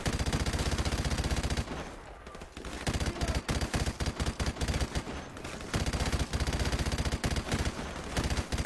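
Rapid automatic gunfire from Call of Duty: Modern Warfare Remastered, sustained bursts of loud, close shots with a short lull before the firing resumes in dense, stuttering volleys.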